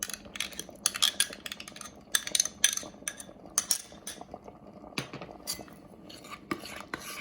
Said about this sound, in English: Stir it, and you'll see the color changing while it's cooking